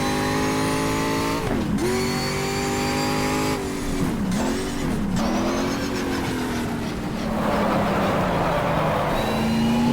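Production touring cars race at Mount Panorama in the GTR2 video game, one car's engine droning loud and close, rising and falling through gear changes and braking, with other engines faintly behind.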